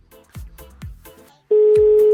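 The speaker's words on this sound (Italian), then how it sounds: "ad attendere infiniti squilli che poi non portano a nullo" A telephone call, with a few soft, rhythmic thumps followed by a loud, steady tone that begins abruptly and continues to the end.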